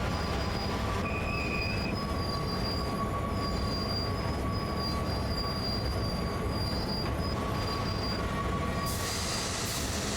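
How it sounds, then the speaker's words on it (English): Freight train rolling on Sand Patch Grade in Train Sim World 2, with a constant dense rumble of wheels on rails and sustained high metallic wheel squeals drifting over it. "Let's let the train roll a little bit."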